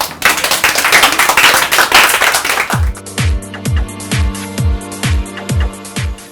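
A crowd of children in an art class claps in a dense burst of applause, then shifts into slower, evenly spaced rhythmic claps in unison.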